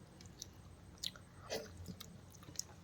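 Quiet, close chewing while eating pakhala rice and chicken, soft wet bites and a few crisp crunches scattered irregularly over a few seconds, with no talk.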